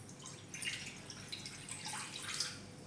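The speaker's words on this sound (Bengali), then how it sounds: "আমি এই বাটিতে 1 বাটি জল দিচ্ছি" Water trickles and drips into a bowl at a village kitchen stove while Maggi noodles are being made, a soft, fairly faint splashing that continues with small bursts of louder pouring.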